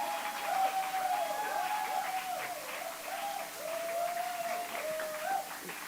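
Moderate applause from an audience at an alumni reunion of a Chabad men's outreach group fills the room, steady and fairly soft, with a faint tone running underneath.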